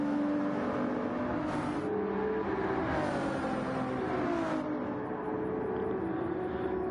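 GT2 and GT3 race cars lapping Yas Marina in a racing game, a steady engine drone with rising and falling pitch as gears shift, fairly faint and continuous with no talk.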